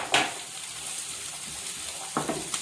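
Chopped ginger and garlic sautéing in a kadai for kadai paneer masala: a low, even sizzle with a couple of brief stirring clatters, close and fairly quiet, with no voices.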